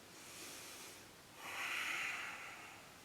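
Deep breathing during a gentle yoga twist: one soft inhale followed by a longer, stronger airy exhale, close and quiet, with no voice.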